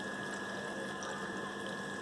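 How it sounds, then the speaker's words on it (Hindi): Turtle tank water drawn off through a siphon pipe into a bucket, heard as a steady, close, hissing trickle of flowing water with no pause and no talk. "आपको बस ऐसे साइफन पाइप से सारा पानी और बकेट में ले लेना है"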